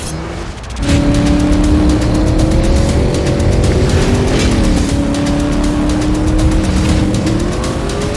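A handcrafted hot rod being driven, its engine roaring loud and close as it accelerates through rising and shifting revs, with a steady sustained drone and rough tire and road noise.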